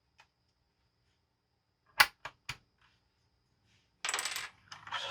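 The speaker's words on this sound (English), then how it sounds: "Take off one of these keys." A keycap is pried off a Velocifier wireless mechanical keyboard with TTC switches: a few crisp plastic clicks and snaps, close and isolated in quiet, then a short scraping rattle.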